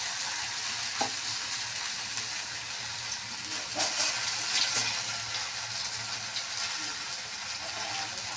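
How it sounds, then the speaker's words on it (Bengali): Potato fritters (bora) fry in hot oil with a continuous close, bright sizzle. A few light clinks of a utensil stirring or turning them cut through the sizzle. "বড়াগুলো খুব লাল লাল, কত সুন্দর ভাজা হয়েছে"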